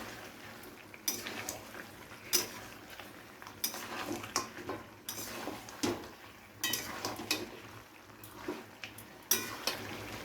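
Mutton stir-fried with ginger, garlic and green chili paste for bhuna, with repeated spatula scrapes and clatters against the pan over a low, steady sizzle, fairly close and without speech.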